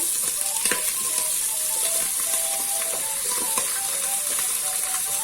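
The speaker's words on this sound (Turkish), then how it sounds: "Şimdi yavaş yavaş bütün sebzelerimizi ekliyorum." Vegetables (potato, celery, zucchini and eggplant) go into a pan with lamb ribs and sizzle there. The frying hiss is steady and moderately close, with light clinks and scrapes over it and no talking.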